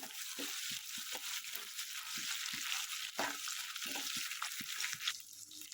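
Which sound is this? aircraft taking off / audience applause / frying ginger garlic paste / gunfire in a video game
frying ginger garlic paste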